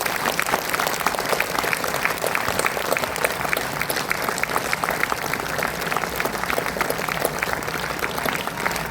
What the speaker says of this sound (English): the release deserves a standing ovation.